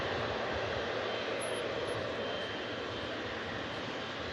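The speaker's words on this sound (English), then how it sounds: "Mighty 777 arriving in from Dubai." A Boeing 777 airliner arriving from Dubai at Manchester Airport, heard as a steady, loud broadband jet engine roar that stays constant throughout.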